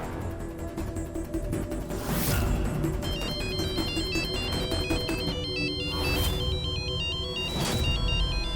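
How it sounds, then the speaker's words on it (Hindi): A phone ringtone plays repeatedly in a melodic electronic pattern, loud and close, over a steady background hum. "Pick up the bloody phone Mahak."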